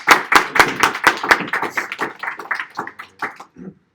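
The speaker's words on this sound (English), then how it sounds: "we'd like to give them a huge round of applause" A small crowd at a San Diego PHP meetup gives its sponsors a round of applause: fairly close, distinct claps from a modest group, strong at first and thinning out, then fading away within a few seconds.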